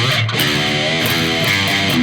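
A sustained, distorted electric guitar tone playing the pre-chorus of a song slowly, with notes sliding up in pitch as strings are bent, alone without talk.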